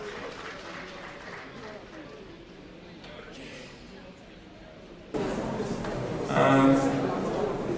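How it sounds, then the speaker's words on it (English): A Nigerian automotive innovation event audience claps for an engineer. The crowd noise starts thin under talking and then swells into fuller, louder clapping midway, with voices continuing over it. "Please, a round of applause for him."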